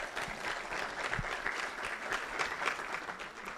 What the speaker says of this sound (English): applause for the last team